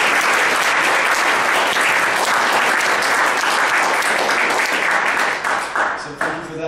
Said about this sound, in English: I want to take a moment here and special applause for Ken Moore